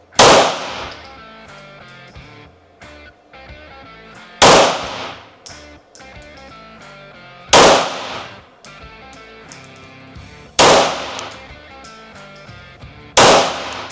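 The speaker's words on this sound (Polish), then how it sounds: "pięć strzałów." Five loud, sharp pistol shots from a Stealth Arms Platypus 1911-style pistol, fired singly at a slow, fairly even pace of about three seconds apart, each followed by a ringing decay and mechanical clatter.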